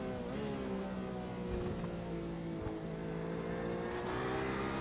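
A Porsche race car engine in the iRacing sim at the Charlotte Roval, holding a steady, loud, buzzing drone with sustained harmonic whine throughout, no talk over it.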